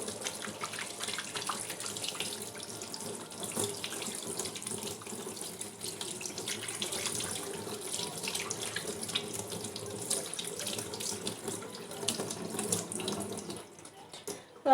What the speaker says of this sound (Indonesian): lalu bilas.